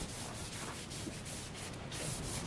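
Pastel being rubbed into cartridge paper, a steady close, dry scrubbing friction that continues without pause, swelling slightly louder near the end.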